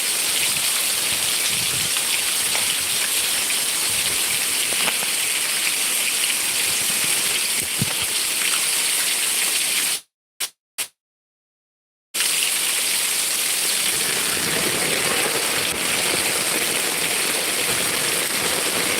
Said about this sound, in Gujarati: મિત્રો મુશળધાર વરસાદ ચાલુ છે